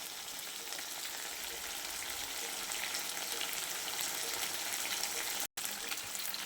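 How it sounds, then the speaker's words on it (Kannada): Mango chicken semi-gravy frying in a pan, a steady close crackling sizzle that continues without pause, with one brief dropout near the end. "ಇವಾಗ ನೋಡಿ, ಚೆನ್ನಾಗಿ ಫ್ರೈ ಆಗ್ತಾ ಇದೆ"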